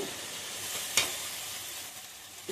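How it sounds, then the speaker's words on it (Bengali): Pre-fried potatoes are tipped into spice masala frying in a pan: a quiet, steady sizzle with one sharp clatter as the potatoes drop in, then continued soft frying. "মশলাটা আমার ভাজা হয়ে গেছে, এবার আমি ঢেলে দেবো আলু।"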